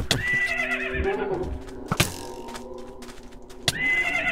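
A skeleton's horse in a video game neighs sharply at the start and again near the end, with hoof clatter and a couple of hard knocks in between over a low background hum.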